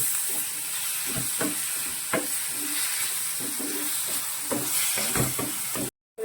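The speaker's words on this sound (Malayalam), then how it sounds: "തക്കാളി നന്നായിട്ട് ഇതുമായിട്ട് യോജിച്ചിരിക്കുന്ന രീതിയിൽ വരെ ആവണം നന്നായിട്ട് ഇത് വഴറ്റണം" Onions and tomatoes sauté in a pan for a Kerala-style curry, a close, steady sizzle broken by repeated scraping stirs, with no voices.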